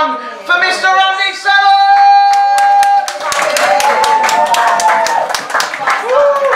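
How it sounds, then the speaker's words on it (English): Hand clapping from a small audience at a live comedy gig in a Doncaster eatery as the next performer is welcomed, crisp individual claps building under a voice, with musical tones running alongside. "a big, big round of applause for your next performer this evening"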